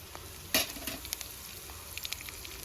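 Dried red chillies, broken by hand, fry in hot oil for a Tamil neer urundai tempering, giving a steady close crackling sizzle with a sharp burst of spattering near the start and scattered pops after.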